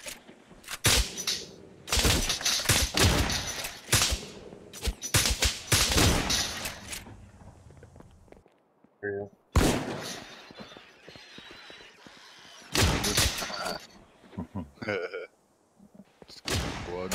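Bursts of gunfire from the survival game Miscreated, several loud volleys of shots with gaps between them, someone talking and laughing among the shots.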